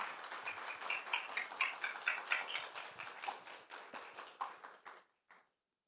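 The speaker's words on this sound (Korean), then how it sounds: "우리 황진솔 대표님 나오실 때 큰 박수로 맞이하겠습니다" Applause from a church young-adult worship congregation welcoming a guest speaker: a fairly faint, crisp patter of clapping hands that thins into scattered claps before stopping abruptly into silence.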